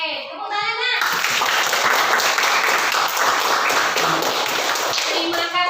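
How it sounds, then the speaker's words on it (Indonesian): A classroom full of students clapping, steady and dense for several seconds, with a few young voices audible underneath before it fades. "Oke, tepuk tangan."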